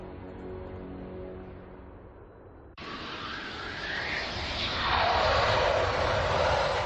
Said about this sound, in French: Cette autre séquence montre un décollage au Japon.